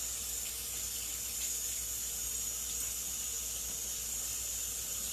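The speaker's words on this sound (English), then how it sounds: "They're kind of greasy, so I'm going to wash them." Greasy hands are washed under a running tap, a steady, bright hiss of flowing water that stays constant and close throughout.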